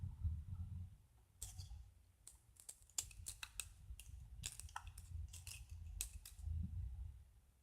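A knife scrapes and cuts a polymer bead out of cast aluminium, giving scattered close crisp clicks and snips over a low background rumble, with no talking.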